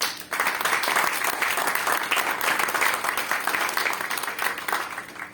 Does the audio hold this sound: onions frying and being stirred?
no